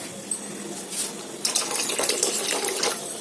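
Water is poured into a thickened curry cooking in a pot, a steady splashing pour that swells louder halfway through and runs on close up without pause.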